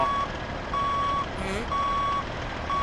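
A truck in Grand Truck Simulator 2 sounds its reversing alarm: long, loud electronic beeps repeating at an even pace about once a second, with the engine humming underneath.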